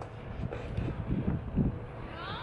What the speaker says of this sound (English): All right, so it's super windy out here.